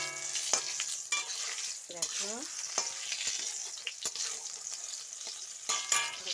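Pointed gourd pieces sizzle in hot oil, a dense continuous crackle with spatula scrapes and clinks against the pan, and someone briefly speaks over it.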